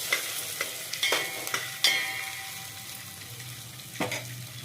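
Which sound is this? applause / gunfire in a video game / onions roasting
onions roasting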